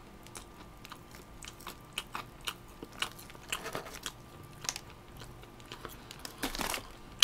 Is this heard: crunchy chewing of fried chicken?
yes